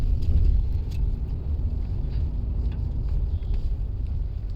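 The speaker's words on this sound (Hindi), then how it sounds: "ये क्लच दबाया, सेकंड गियर में आ गई गाड़ी" Car driving along in second gear after a clutch shift, a steady low engine and road rumble with no voices.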